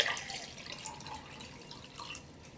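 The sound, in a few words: water poured onto sodium polyacrylate diaper particles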